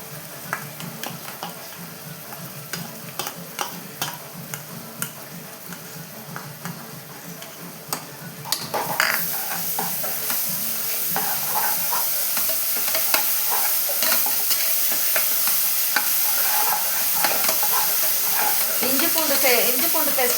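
Ginger garlic paste fries in a pan with soft ticking and scraping stirs at first, then a sudden louder, continuous sizzle and hiss as it hits the hot oil, stirring continuing throughout.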